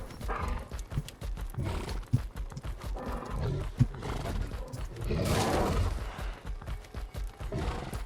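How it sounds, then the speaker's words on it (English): A horse whinnies amid busy clip-clopping hoofbeats, loud and close, with the neigh rising midway through the dense trotting sounds. "Do you hear a horse whinnying?"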